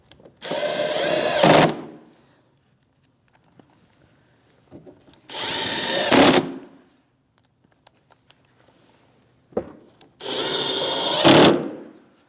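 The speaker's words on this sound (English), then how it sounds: "Same 7mm socket, 3 screws with the washers, and we'll tighten them right up." A power driver with a 7mm socket runs down three screws with washers on a side bumper bracket of a 2016-2025 Chevrolet Malibu, giving three separate close whirring bursts with short quiet gaps between them.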